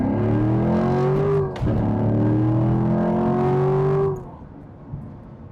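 A stock C7 Corvette with a manual transmission accelerates, its engine note climbing steadily through one gear, dropping briefly at a shift, then rising again before easing off, heard from inside the car.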